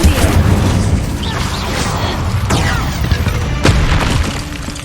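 Incendio fire spell blasts in the video game Hogwarts Legacy, a dense roaring burst with several booming whooshes and crackling impacts, loud and close throughout.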